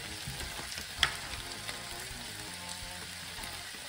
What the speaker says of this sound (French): dans notre poêle, on met de l'huile d'olive. Et on vient mettre nos morceaux de viande de bœuf.